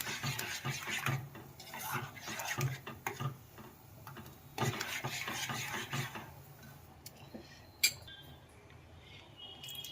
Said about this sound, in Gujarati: આવી રીતે સતત ચટણીને હલાવતું રહેવાનું